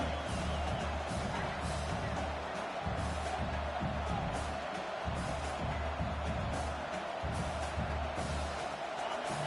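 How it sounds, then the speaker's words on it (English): Stadium crowd at a football game, a continuous dense roar of many voices with scattered cheers and whoops, steady and fairly distant. "This crowd trying to make life miserable for this offense."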